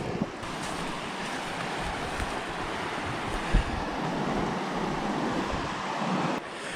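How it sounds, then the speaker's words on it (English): A river in rough bush country flows with a steady, broadband rushing roar, loud and constant, with wind buffeting the microphone and no voices. "I see a river."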